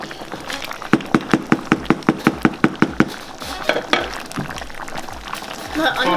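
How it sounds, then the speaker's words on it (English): Periwinkle being stirred into a pot of Nigerian Igbo oha soup: a quick, even run of sharp spoon clacks against the pot, then looser, irregular scraping and knocking, with faint voices in the background. "Let's go ahead and add periwinkle."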